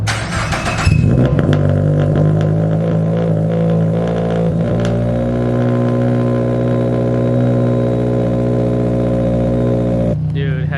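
Subaru BRZ with a titanium AFD exhaust with no resonator and the muffler out back, cranking and starting, then a loud, deep steady idle that holds for several seconds before cutting off, close to the car.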